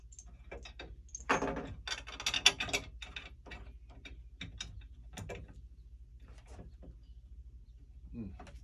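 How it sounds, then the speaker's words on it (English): Small bolts being finger-screwed into a Laserball pinball machine during setup, giving a series of soft, close metallic clicks and scrapes with irregular rhythm, louder in a short cluster early on and sparser afterward. "Grab 4 of the smaller bolts and just finger screw them in."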